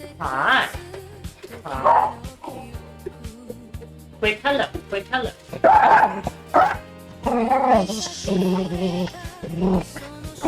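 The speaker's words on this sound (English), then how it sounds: "Sorry about the dog barks, if that's a trigger for anybody." Puppies bark and yip several times at close range, in short bursts, while a person speaks briefly between the barks.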